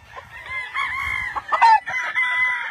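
Roosters on a farm crow and cluck close by. Overlapping calls rise and fall across the moment with a sharper crow near the middle.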